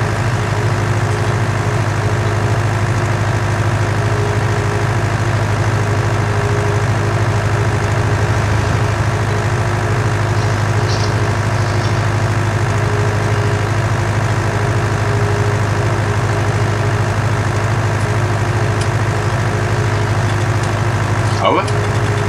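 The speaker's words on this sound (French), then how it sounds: "ça serait pas le bruit du tracteur que je conduis que tu entendrais?" A tractor engine in a farming video game idles continuously throughout, a constant steady low rumbling drone with a faint hum above it.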